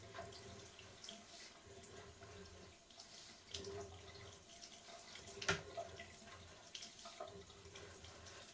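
Water running from a laundry room sink down into a sewer pipe, a faint, hollow trickle and splash echoing inside the pipe, steady with occasional louder gurgles and drips.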